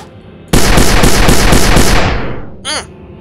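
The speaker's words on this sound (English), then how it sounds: "Then we've got 40mm mini cannon." A 40mm mini cannon in the Space Engineers video game fires a loud, sustained burst of rapid, evenly pulsed shots for about two seconds, then tails off, followed by a brief whooshing sound.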